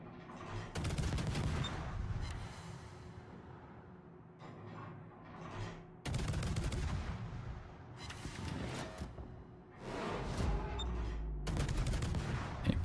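Naval gunfire and explosions in the World of Warships video game: repeated loud, booming salvos and blasts in dense bursts, with rumbling impacts layered close together and no talk.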